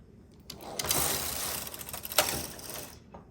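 Knitting machine carriage pulled across one row of chunky yarn for a cardigan back, a sliding mechanical rasp and clatter lasting a couple of seconds, close and alone.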